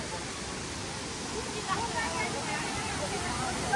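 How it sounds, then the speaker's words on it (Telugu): A waterfall on a clean river in Meghalaya, near the Bangladesh border, heard from below as a steady, broad roar of rushing water that fills the whole stretch with no gaps. "సో కింద నుంచి వాటర్ ఫాల్ వ్యూ ఇలా ఉంది."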